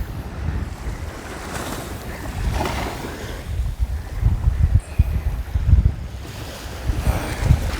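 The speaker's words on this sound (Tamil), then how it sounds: "இந்த கடல் இங்கே பார்த்தீங்கன்னா தண்ணி அடிக்கிறது உங்களுக்கு தெரியும்" Sea surf washes onto a white-sand beach at a fishing village on the Kayankerni coast near Batticaloa, a steady broad roar of breaking waves with heavy wind buffeting the microphone and surging swells around the middle and end.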